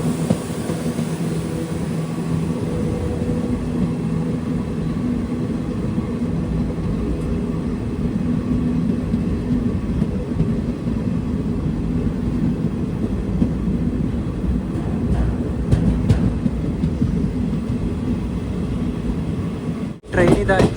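Recorded from inside a train pulling into Chengannur railway station in Kerala: a steady low rumble and hum of the moving carriages runs throughout, with faint rhythmic clatter and a brief sharp disturbance near the end.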